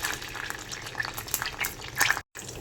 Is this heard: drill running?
no